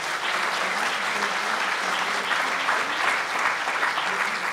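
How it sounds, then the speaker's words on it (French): Warm, sustained applause from a seated audience after a round-table discussion in a French hall, a dense even patter of many hands holding steady throughout, no talk. "je vous demande de les applaudir très chaleureusement"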